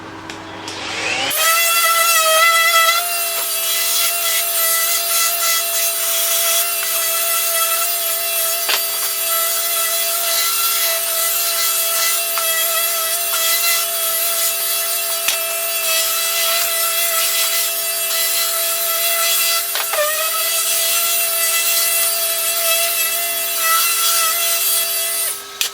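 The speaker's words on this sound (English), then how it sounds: "what we've got here is a middle of Lidl battery sander, 12 volt" A Lidl 12 volt battery sander works wood in a steady, loud electric whine with a gritty rubbing layer, starting up sharply and running continuously for over twenty seconds with slight pitch dips as pressure changes.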